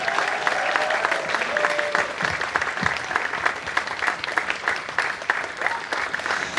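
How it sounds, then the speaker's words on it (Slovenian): A live audience in Slovenske Konjice breaks into sustained, dense applause welcoming Ajša Sivka on stage, with a few cheers and voices mixed in. The clapping stays steady and full for the whole stretch. "Z bučnim aplavzom prosim pozdravimo Ajšo Sivka"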